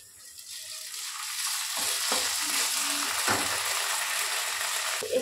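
Ginger and cumin paste going into a pan of frying fish masala, a steady loud sizzle with a faint stirring scrape, close and continuous, no talking.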